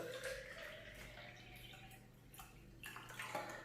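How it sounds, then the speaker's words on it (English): Water poured into a blender while making a simple breakfast drink, a faint, close trickling splash with a few drips that swells and fades over several seconds. "We pour some water"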